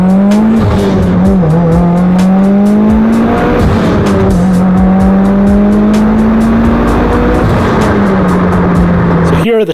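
A Mitsubishi Lancer Evolution accelerates hard from second to fourth gear, its engine droning loud and close. The pitch climbs steadily, with brief dips at each gear change, and the car keeps pulling to the end.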